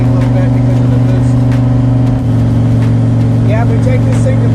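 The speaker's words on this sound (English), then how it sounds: "Heard the RPMs fluttering because it was only part throttle." A turbocharged LS-swapped 1965 Pontiac Tempest junkyard hot rod idles and revs at part throttle, a loud, close engine drone with a wavering, fluttering pitch that shifts slightly midway.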